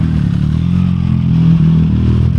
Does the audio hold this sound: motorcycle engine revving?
yes